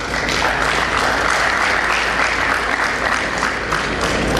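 An audience at a dental sciences graduation ceremony gives a dense, sustained round of applause that stays loud and even throughout, with no talk over it.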